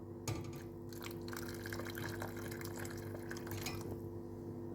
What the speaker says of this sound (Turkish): su döküyorum. Çok fazla su dökmüyoruz ki o lezzet suda kalmasın.